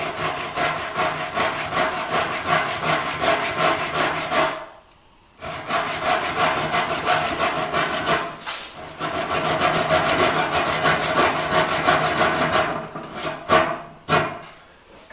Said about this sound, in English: I'm using a Japanese pole saw.